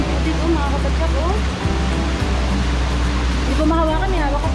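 Water flowing inside a limestone cave, Cabag Cave in Silang, Cavite, a steady broadband rush close by with a few brief dips, with voices talking faintly over it.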